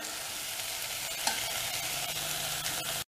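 Finely chopped vegetables for Indori poha are stirred in a frying pan, a steady close sizzle with soft scraping strokes throughout, alone without speech.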